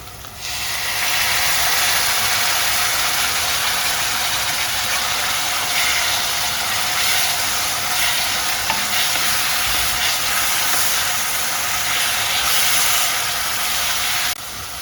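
Loud, steady sizzling from a hot pan continues without pause, a dense crackling hiss as tomatoes fry with golden onions.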